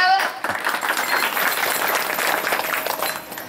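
An audience at a devotional kirtan gathering claps steadily, a dense, continuous wash of many hands that stays fairly even before easing slightly at the end.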